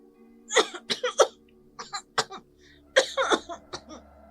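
A sick young girl coughs repeatedly in harsh, close bursts, with clusters of hacking coughs separated by short pauses, loud and alone with no talking.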